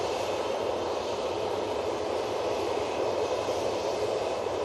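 An Airbus A320-200 airliner at Manchester Airport produces a steady, broad jet roar that holds constant throughout without any breaks, heard from a distance as a continuous wash of engine noise.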